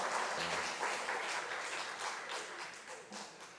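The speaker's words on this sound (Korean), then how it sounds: "박수로 축복하겠습니다" A church congregation claps in welcome after a praise song at a new-member worship service, a soft, steady patter of many hands heard from a distance.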